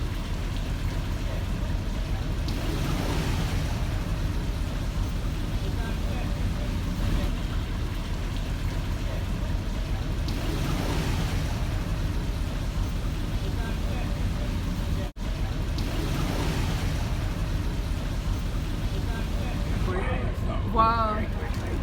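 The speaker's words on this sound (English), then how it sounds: "Even though it's only a relatively small amount of water being let into the lock, it really comes in with some force" Water pours with force into a canal lock beside a narrowboat near London's Olympic Stadium, making a loud, steady, unbroken roar that fills the whole stretch, with a few small clicks toward the end.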